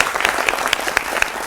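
A studio audience on a cricket talk show claps to welcome the panel guests, a brief burst of dense applause from a small crowd, close and fairly loud.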